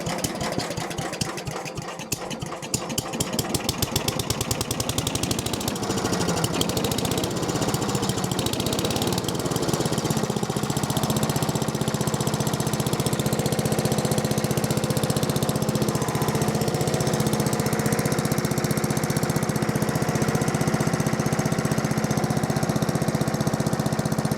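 An old small gasoline engine on full choke, pulled over with a few quick rattling cranks before it catches and settles into a loud, steady, close running drone.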